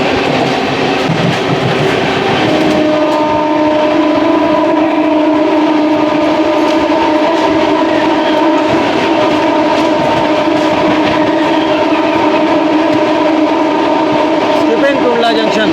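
The Amrit Bharat Express, riding in a general coach as it passes through Tundla Junction, gives a loud continuous rumble and rattle with sustained horn-like tones, while a voice talks over it.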